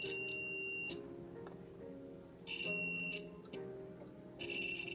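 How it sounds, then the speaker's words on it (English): A multimeter in continuity mode, used to test a part in a microwave, sounds high electronic beeps in three separate bursts over a low background hum, with no talking. "I'm gonna check for continuity, and it should make a sound"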